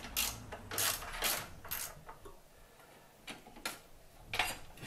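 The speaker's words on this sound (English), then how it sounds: "So, undo the battery clamp." Rapid ratchet clicks and metallic ticking in short repeated bursts as the battery clamp is undone on a Gen4 JB74 Suzuki Jimny, close and moderately loud with no talk.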